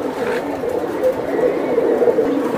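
Silver Giribaz pigeons coo in low, rolling bursts, close and fairly loud, repeating steadily with overlapping throaty phrases and little else in the background.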